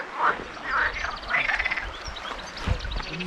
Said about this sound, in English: Oh, listen to the frogs, yeah.